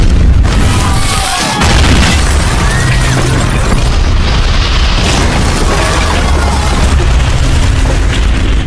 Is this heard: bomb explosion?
yes